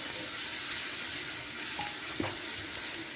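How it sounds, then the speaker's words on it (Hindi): Garlic ginger paste frying in a pan gives a continuous close, bright sizzle with a few soft scrapes of stirring, alone and steady throughout. "गार्लिक जिंजर का पेस्ट डालेंगे 1 चम्मच। इसको 1-2 मिनट भूनेंगे।"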